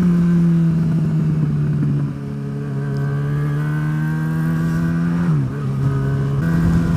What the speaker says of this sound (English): Right, I'm going to go down one gear.